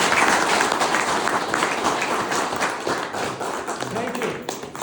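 An audience at a closing seminar session claps loudly and densely, the applause dense and sustained before thinning a little near the end, with no voices clearly standing out.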